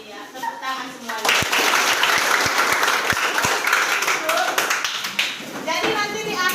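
A classroom full of children bursts into loud, dense applause that swells and holds for several seconds, with a few sharper taps and voices mixed in near the start.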